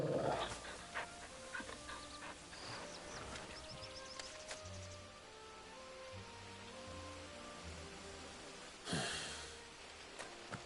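A dog pants in the video game Final Fantasy XVI, soft rhythmic breaths under a steady outdoor ambience with a faint musical score and an occasional louder gust or swish.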